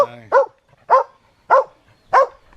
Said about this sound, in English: the dog is having a go